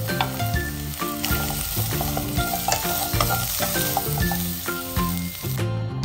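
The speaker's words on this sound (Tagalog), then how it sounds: "Gisahin na rin ang hiniwang karot hanggang medyo matusta na." Sliced carrots sautéing in a pan after potatoes, a constant sizzle with stirring clatter, close by, beneath prominent rhythmic background music and no speech.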